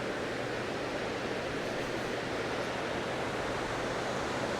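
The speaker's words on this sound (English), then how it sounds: "Nice little waterfall." Steady rushing water of a small waterfall below a dam, a continuous broadband roar with no breaks, fairly close and alone.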